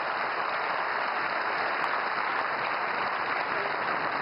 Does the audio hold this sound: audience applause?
yes